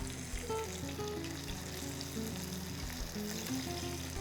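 Flour-coated fish fry in a pan over medium heat with a steady, dense sizzle that stays close and even throughout, under faint background music.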